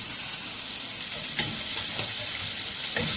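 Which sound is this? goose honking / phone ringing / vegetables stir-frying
vegetables stir-frying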